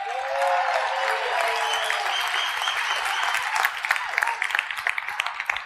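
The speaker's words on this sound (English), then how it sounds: "Please give Garth a round of applause." Audience at a wealth-building seminar applauds, dense sustained clapping that thins into scattered individual claps toward the end, with faint voices underneath.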